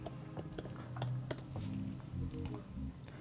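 Soft, quick keystrokes on a computer keyboard, a brief burst of irregular taps entering a short search term, close and quiet.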